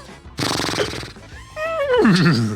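A burst of vocal noise is followed by a person imitating a horse whinny, a rising then shaky descending neigh done with the voice.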